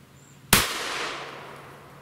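One sharp 9mm pistol gunshot fired outdoors during a defensive ammunition test, a sudden crack followed by a fading echo, heard alone against quiet background.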